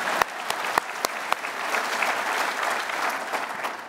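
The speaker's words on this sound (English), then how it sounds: "Yeah, we can applaud." An audience at a lecture event applauds, a dense, steady wash of clapping with several sharp individual claps standing out near the start.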